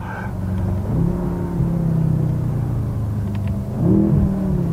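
Engine of a BMW M car revving, a deep, close rumble that rises in pitch twice, once near the start and again toward the end, with no talking over it.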